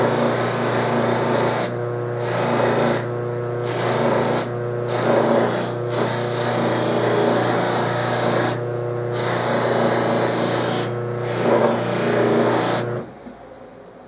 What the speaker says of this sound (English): Now I'm going to polish this up and make it look pretty.